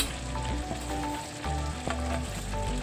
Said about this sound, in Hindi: तो ये देखिए मैं ढेर सारा धनिया पत्ता डाल देता हूँ इसमें